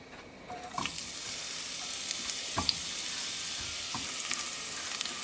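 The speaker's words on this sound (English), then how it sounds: "the oil also heat up, and we're going to bring green chili, ginger, and garlic" Green chili, ginger and garlic fry in hot oil for a chicken soup, a close, continuous hiss and sizzle with a few soft clinks of stirring and no voices.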